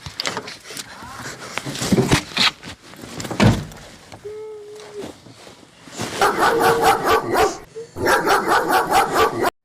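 A dog barks loudly and close in a burst of repeated barks, with people talking and shouting around it.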